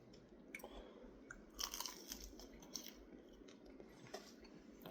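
Crispy Korean super spicy chicken wings are bitten and chewed up close, giving quiet crackling crunches with a louder cluster of bites partway through.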